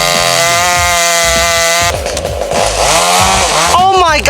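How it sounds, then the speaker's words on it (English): A chainsaw cutting down a tree close by: a loud, steady high whine that drops into a rougher, bogging roar as the chain bites into the wood, then revs up again. "They're gonna start cutting the tree. It's gonna get noisy"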